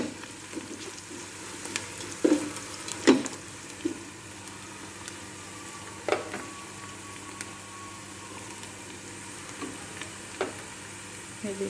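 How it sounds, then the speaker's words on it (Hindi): Ginger frying in a pan for achari chicken karahi, a continuous soft sizzle with occasional scrapes and taps of stirring, close and moderate in level, with no voices. "अब अदरक की अच्छी से भुनाई करके"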